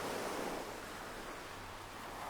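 Ocean waves wash onto the shore in a steady, dense surf roar with no gaps, fairly soft and even, with no voices.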